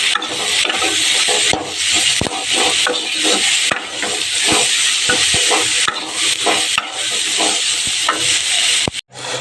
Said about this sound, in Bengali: এই দেখো বন্ধুরা পেঁয়াজ রসুন লঙ্কাটা ভাজা হয়ে গেছে